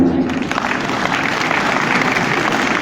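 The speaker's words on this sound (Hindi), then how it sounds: "अब आप चाहें तो ताली बजा सकते हैं" Sustained audience applause from a crowd at a Hindu community talk, a dense, steady wash of many hands clapping throughout with no speech over it.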